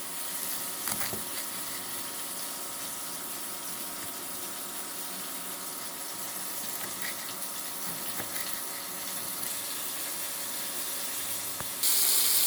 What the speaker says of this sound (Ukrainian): А так Отак підсмажили гарнесенько шматочки ляща